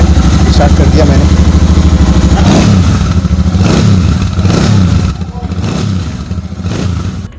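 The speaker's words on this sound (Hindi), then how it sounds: "तो अब इसका जो है हम लोग साउंड सुनते हैं कि कैसा इसका जो साउंड है, स्टार्ट कर दिया मैंने।" A Royal Enfield Super Meteor 650 motorcycle engine starts and settles into a steady, loud idle close by, with a few clattering blips in the second half.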